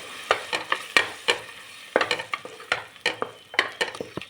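Spices with coriander powder and turmeric frying in oil for a home-made veg pulao, with a ladle scraping and tapping against the pan in a steady irregular rhythm over a soft sizzle, close and clear.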